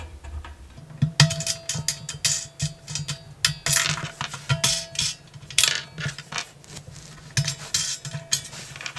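Nuts being unscrewed to remove the base of a VEVOR 8-in-1 heat press, a string of small irregular metallic clicks and ticks, close and fairly crisp, with no voices.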